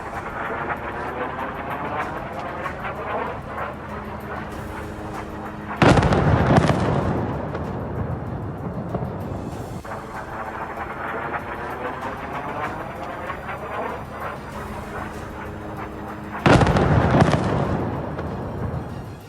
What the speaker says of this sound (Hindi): पूरा इलाका धमाके की खौफनाक आवाज से गूंज उठा